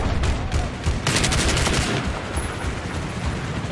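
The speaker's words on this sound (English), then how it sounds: "He's shooting that damn wall up" Rapid automatic gunfire in the video game Battlefield 4 sprays into a wall, a dense, loud burst of shots that intensifies briefly before continuing as steady rattling crackle, with no talking.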